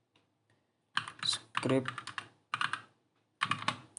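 Commands being typed on a computer keyboard, several quick bursts of clicking keys separated by short pauses, fairly close and quiet, with a word or two spoken.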